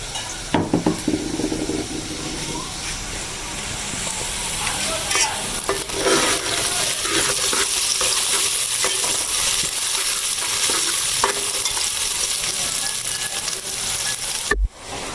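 Beef keema sizzles in a hot karahi with coarse-ground whole spices, salt and garam masala, as a spoon scrapes and stirs the pan. Loud, steady frying hiss with intermittent metallic scraping, alone, ending with a sharp clatter.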